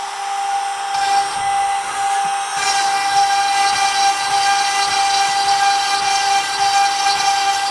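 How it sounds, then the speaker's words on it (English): CNC machine milling a test guitar neck, a loud steady high-pitched whine with a constant tone running throughout, joined by a harsher broadband cutting noise partway in, close, with no talking. "So I've only got it milling to where the other side of the hole would actually be."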